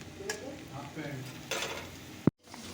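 Bora fritters fry in oil over a lowered gas flame, giving a steady close crackling hiss with scraping stirs, then one sharp knock near the end and a brief hush.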